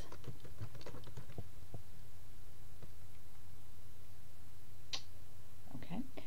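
Quick keystrokes on a computer keyboard tap out a folder name in a burst of close, crisp clicks, then go quiet before a few more scattered clicks, over a low background hum.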